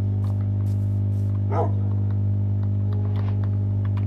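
A dog in a survival video game gives a single short yelp over a loud steady hum, with a few soft clicks and game sounds scattered around it and no speech.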